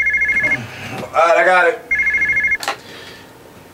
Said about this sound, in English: can you get the phone?